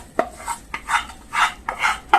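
A spoon stirring semiya payasam in a metal pot, about five rhythmic scraping strokes with clinks against the pot, close and fairly loud, with no talking.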